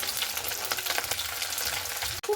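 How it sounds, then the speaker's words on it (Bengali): Small mourola fish frying in oil, a dense crackling sizzle that stays close and continuous before a brief clunk near the end. "যে মাছগুলো আছে সেগুলো আমি ভেজে নিচ্ছি।"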